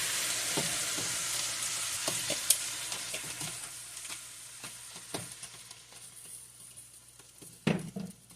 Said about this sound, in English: you want to keep this at as a lower temperature as you can because you're just trying to brown your onions